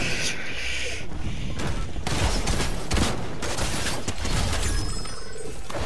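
Shotgun blasts and bursts of gunfire ring out in a match of the video game Unreal, loud, dense and continuous across the span, with heavy booms and shattering crackle mixed in.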